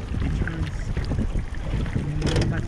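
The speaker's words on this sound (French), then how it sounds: "Le bateau d'ailleurs, sur lequel je navigue, est également équipé d'un moteur électrique." An electric-motor boat cruises along an Amsterdam canal, giving a steady, fairly loud whoosh of water and wind noise with no pauses and no talk.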